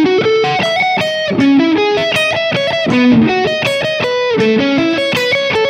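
A distorted electric guitar plays a fast, busy melodic line with buzzy, gritty tone, loud and continuous, notes shifting up and down rapidly.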